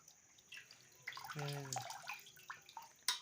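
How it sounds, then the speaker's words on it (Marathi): Water sloshes and splashes in a basin as raw chicken is rinsed by hand, with a few brief drips and a sharp clatter at the end. "हे चिकन चिकन धुवून घ्यायचं"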